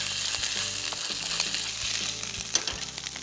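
Chicken wings sizzle steadily in a hot pan with garlic and ginger paste, with a few soft clanks as the pan is tossed.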